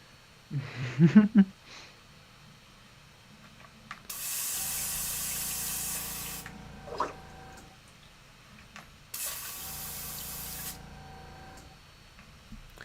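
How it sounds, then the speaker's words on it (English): Two bursts of an airbrush hissing air onto a Warhammer miniature to dry it, each lasting about two seconds, close and steady, with some handling clatter between them. "spray air on the model with the airbrush to make it dry faster"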